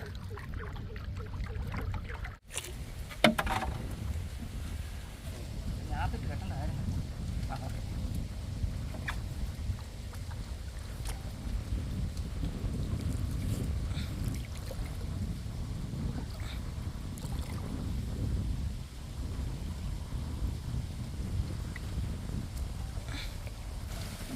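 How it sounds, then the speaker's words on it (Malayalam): Strong wind blows across open water around a rowed boat in rainy weather, with a soft, continuous rush and a few knocks from the boat, and faint voices now and then. "നല്ല കാറ്റാണ്"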